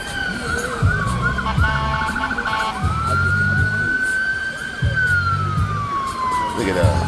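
A police car siren wails continuously at a street festival, its sweeping tone rising and falling loudly over crowd noise, with voices talking underneath.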